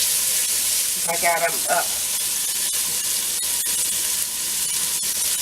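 Onions frying in a pan, a steady loud sizzle and hiss throughout, with a brief spoken phrase over it early on.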